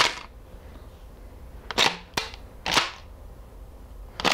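APS CAM870 shell-ejecting airsoft shotgun fired close by: a few sharp, short cracks with mechanical clacks between them, with no talking.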